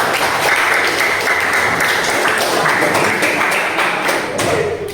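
A lecture audience applauds a speaker named M. Rizky at a talk on the history of computers, with dense, loud, continuous clapping that holds steady for the full five seconds and fades slightly at the end.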